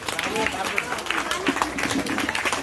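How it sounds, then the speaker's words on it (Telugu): Audience clapping at a colony welfare association's Vinayaka Navaratri felicitation event, a dense continuous patter of many hands with crowd murmur underneath, fairly loud throughout. "చప్పట్లు ప్లీజ్."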